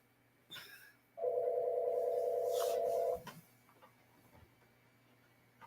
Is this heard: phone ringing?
yes